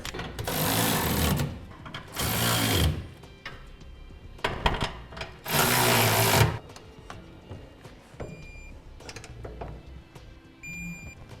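Gooseneck hitch bolts are tightened on a 2011 Chevrolet Silverado frame in three loud, close bursts of power-tool whirring, with quieter clicks and clanks between them.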